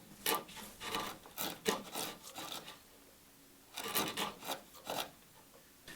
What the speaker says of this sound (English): I'm using the corner of the chisel to kind of plow some lines through here to get rid of the waste.